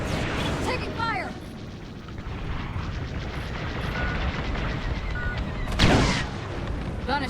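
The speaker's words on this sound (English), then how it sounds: "Taking fire." Shots and impacts keep striking a starfighter in Star Wars Squadrons, a steady churn of blasts and rumble with one louder hit near the end, while a voice talks over the din.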